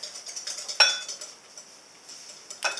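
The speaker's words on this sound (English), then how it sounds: "I don't know if we're over whisking it or under whisking it" Hand whisking of duck mayonnaise in a bowl, with quick close ticking clinks of the whisk against the side, a sharper clatter partway through and another burst near the end.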